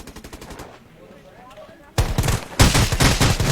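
Rapid automatic gunfire from the mobile battle-royale game Rules of Survival, starting quieter and then bursting loud and close after about two seconds, with speech-like sound mixed in.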